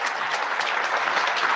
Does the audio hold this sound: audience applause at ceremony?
yes